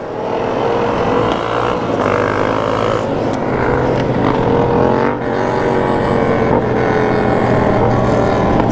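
A motorcycle ride on an open road, probably with a DRZ among the bikes, gives a steady loud engine drone with a sustained rising and falling tone and rushing wind, close and continuous throughout.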